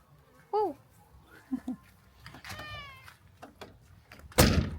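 A house cat in a home meows several times, a few clear rising-falling calls spaced out with quieter gaps, heard close, followed by a sharp loud knock or bump at the end.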